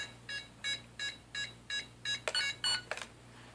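Toy RC quadcopter switching on, a sequence of about eight evenly spaced electronic beeps rising in pitch toward the end, close and clear over a low steady hum.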